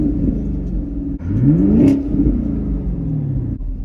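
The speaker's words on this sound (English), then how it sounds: "Let's do a little exhaust sound for you guys." A 2017 Chevrolet Camaro 1SS with a 6.2-litre V8 revs up once with a throaty exhaust roar, rising in pitch and then falling back to a low idle rumble.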